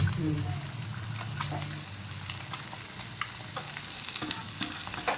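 Potatoes frying in a pan, a steady sizzle with occasional stirring clinks and pops, moderately quiet, with a person speaking over it.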